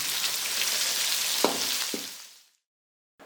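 Prawns frying in hot oil for prawn biryani, a steady crackling sizzle with a couple of sharp pops that fades away to silence near the end.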